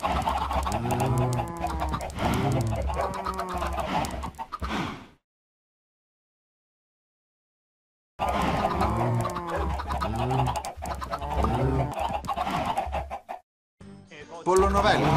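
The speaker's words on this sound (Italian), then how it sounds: "Pollo novello." Chickens in the video game Minecraft cluck in short, repeated bursts, loud and close, with a few seconds of silence partway through before the clucking resumes.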